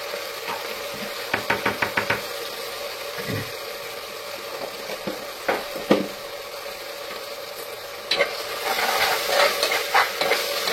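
Ginger garlic paste sizzling in hot oil for Andhra-style chilli chicken, a steady crackling fry with rapid spoon scrapes and taps against the pan in bursts, close by, no voices.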